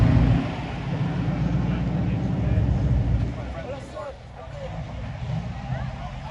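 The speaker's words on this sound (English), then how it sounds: "let's look at this group of cars" A caravan of cars rolls past on Mulholland Highway, a broad engine and tire rumble that swells and then fades, with people chatting over it.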